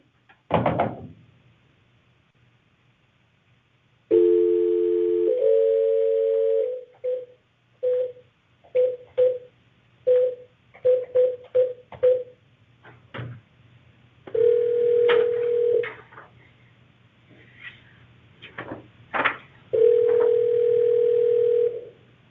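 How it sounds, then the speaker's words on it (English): Telephone line tones from an outgoing call placed from an office: a steady dial tone followed by a rapid series of short keypad beeps, then longer ringback tones, loud and close with no talking. "calling from the Board of Assessment Appeals here in Fairfield for Helen Scala."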